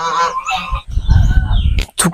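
Several geese honk loudly and close by in a quick run of harsh calls, with a brief pause and a final sharp honk.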